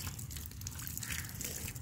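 Water is poured from above onto a freshly planted tissue-culture plantain (Nendran banana) sapling in moist soil, giving a steady, soft splashing gush close by with no voices.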